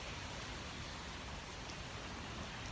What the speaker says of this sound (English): still here in the rain